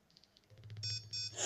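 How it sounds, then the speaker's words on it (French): Electronic beeps from a Blaze EZ dictaphone radio being switched off, a short series of soft tones rising into louder, steadier beeps at the end, alone with no talk. "le tut-tut, là, que vous avez entendu"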